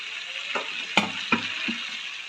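Potatoes frying in a pan for an egg, potato and cauliflower curry, with a steady sizzle as pre-fried cauliflower goes in. Several distinct clunks and scrapes of the pieces and the spoon stand out against the hiss.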